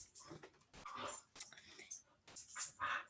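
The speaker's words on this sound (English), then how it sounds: "Sorry about my dogs." Dogs at home whimpering and yipping during a remote board of education meeting, short high yelps and whines in quick uneven bursts, faint, with some voices mixed in.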